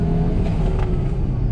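A Volvo S60R engine running smoothly nearby, giving a steady, loud, even mechanical drone with a low rumble throughout, with no speech.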